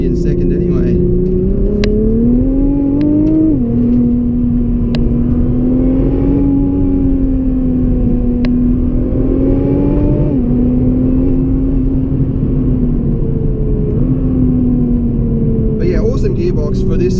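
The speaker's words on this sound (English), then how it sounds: "So if you go back to third gear, we're just cruising along, floor it." A 2017 Nissan GT-R held at full throttle in third gear on the Great Ocean Road, a loud, sustained engine drone that rises in pitch with brief dips, heard close from inside the cabin.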